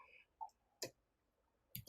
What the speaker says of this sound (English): Click on text.